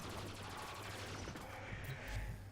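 Argonak rifle in the video game Warframe firing semi-automatic at a slow rate, dense crackling gunfire bursts rolling on steadily through the whole moment.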